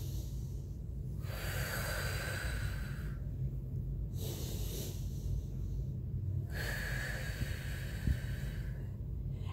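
Slow, deep breathing during an energy healing exercise: long audible inhales and exhales repeat in a steady cycle, close and fairly soft, with no talking.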